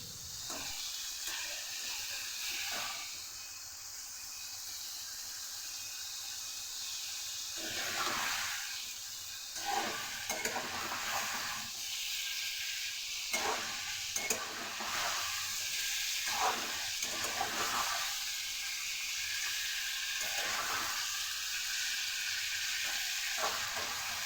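Spice masala cooks down in a pan with added water for a raw banana curry, a continuous bubbling sizzle punctuated by repeated bursts of stirring and scraping, close and steady throughout.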